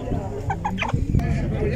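Chickens and roosters cluck and squawk amid steady crowd noise at an animal market, with a few distinct calls standing out over the busy background.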